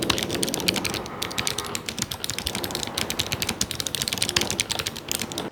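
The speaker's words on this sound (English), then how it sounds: "Now the third thing that I love about this Vissles LP85 is how it feels like when I type on it." Fast, steady typing on a Vissles LP85 low-profile keyboard fills the whole stretch, with dense, close, light key clicks in an even rapid rhythm and no voice.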